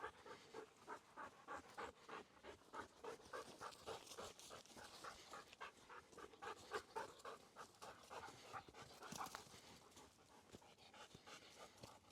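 A Belgian shepherd dog pants quickly and rhythmically close by on a forest walk, a steady run of breathy huffs that goes on throughout, with faint rustling in the background.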